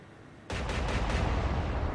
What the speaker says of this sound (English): now we have all 8 15-inch guns firing